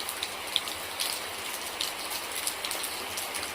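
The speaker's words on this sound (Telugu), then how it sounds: "ఇది మా గ్రామంలో ఇప్పుడు వర్షం స్టార్ట్ అయింది." Rain falling outdoors in a village makes a steady, soft wash of patter with scattered sharper drop hits, moderately quiet and unbroken, with no voices.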